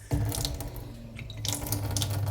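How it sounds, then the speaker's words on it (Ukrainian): Mineralised water runs steadily from a reverse osmosis filter tap of a Vio Filters AW-RB36 system into a sink, a close continuous splashing stream with slight surges, no talk over it. "Ну, Будь ласка, пішла вода з мінералами."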